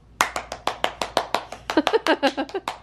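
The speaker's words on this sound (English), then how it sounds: "We have clapping contests." Fast hand clapping by one person in a home clapping contest, about fourteen sharp claps in under three seconds, speeding slightly and becoming hollower toward the end, close and loud with no talk over them.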